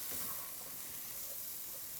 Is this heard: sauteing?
yes